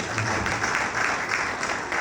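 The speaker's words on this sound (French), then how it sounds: "Merci encore d'applaudir pour vous-même." An audience at a talk on cybercriminality applauds, a short, fairly even patter of clapping from a crowd, moderately loud with no standout claps.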